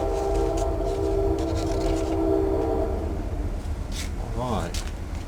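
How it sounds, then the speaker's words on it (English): A train rumbles past behind a workbench where foam RC aircraft fuselage sections are being built, with a steady drone that fades, then a horn blast near the end; a person talks over it. "Oh, and a train is coming by."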